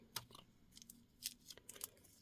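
Sharp scissors chop through a section of yarn in several short, soft snips, close by and fairly quiet.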